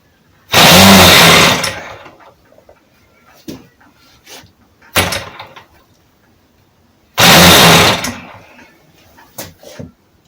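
Small RC model glow engine on low throttle firing in three loud, rasping bursts of about a second each, cutting out in between, with fainter clicks and knocks during the gaps.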